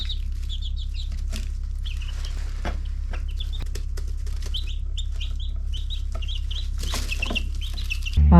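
Newly hatched chicks in a DIY brooder box under a heat lamp cheep in short high repeated bursts, near and fairly clear over a steady low hum.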